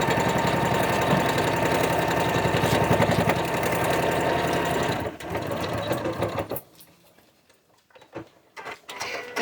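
A sewing machine runs steadily and loudly up close as it stitches fabric, a fast continuous mechanical whir that cuts off partway, leaving faint clicks and handling sounds.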